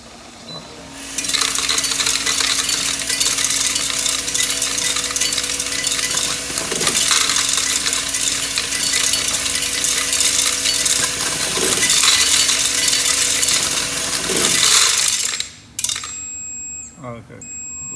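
A Cremer CF1220 machine with a memory flaps unit runs steadily, giving a loud, dense, continuous mechanical clatter with a steady hum, then cuts out near the end with a few brief clunks.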